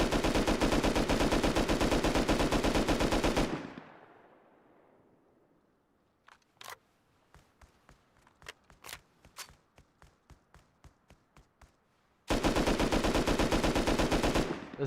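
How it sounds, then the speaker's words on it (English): An automatic rifle fires in Rust in two long, loud sustained bursts, one at the start and one at the end, with the trigger held down and no recoil control; between them a quiet gap of scattered faint clicks and footstep-like taps. "Hey, you want me to shoot this with no recoil?"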